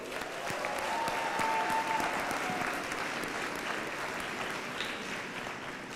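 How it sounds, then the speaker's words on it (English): Steady, moderately faint applause from a crowd at a university commencement ceremony honoring graduates, continuing evenly throughout with no talk. "Give yourselves a round of applause"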